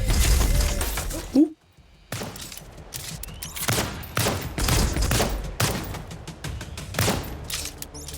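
Gunfire in the video game Lost Skies: dense bursts of shots and crashing impacts fill the clip loudly, with a brief near-silent gap early on, continuing in rapid irregular volleys.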